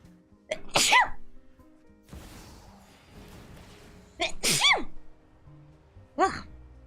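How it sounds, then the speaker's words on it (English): A person sneezes loudly and close by, one sharp burst near the start and two more later, separated by quieter breathing and background noise. "I think I'm gonna sneeze, too"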